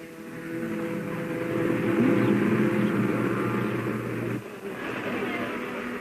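A Jaguar race car at the 1968 Le Mans 24 Hours drones steadily along the Hunaudières straight, a sustained engine hum that swells slightly and then eases off at a moderate distance.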